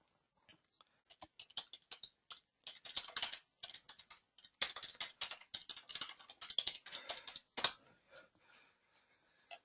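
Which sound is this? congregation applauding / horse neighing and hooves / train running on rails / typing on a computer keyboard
typing on a computer keyboard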